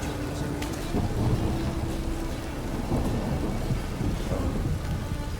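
Steady heavy rain with rolling thunder in the video game The Witcher 3: Wild Hunt, a dense continuous downpour with low rumbles swelling underneath, loud and close throughout.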